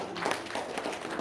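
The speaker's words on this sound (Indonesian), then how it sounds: "Tepuk tangan dong" An audience at an RDAY testimonial event breaks into a short, steady burst of many hands clapping that fills the room evenly.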